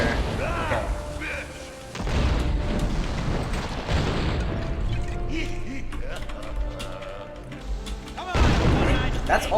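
Dynamite bundles are shot and blow up repeatedly in the Western game Gun, producing several heavy booms with clattering debris among gunfire and mechanical game noise, while someone talks over much of it.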